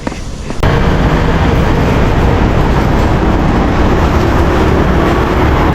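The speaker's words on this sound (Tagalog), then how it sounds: "Sakay kayong train going to Shangshan Station Exit" Passenger train ride toward Shangshan Station on the Taipei metro line to Elephant Mountain, heard from inside the carriage: a loud, steady rumble of wheels and motors that starts abruptly and continues unbroken to the end.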